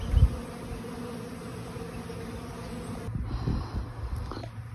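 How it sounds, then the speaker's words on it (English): A steady hum of many honey bees buzzing close around a hive, with a brief thump at the start and some shifting near the end. "Came to check on my bees out here. Looks like they have woken up."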